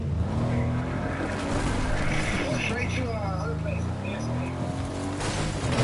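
A video game car's engine drones steadily and shifts in pitch as it drives, with a faint tire squeal, all under people talking over the game.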